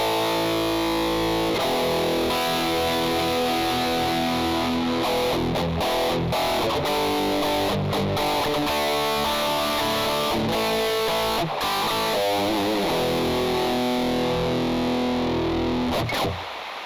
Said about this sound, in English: We begin to perceive the genuine sound of distortion.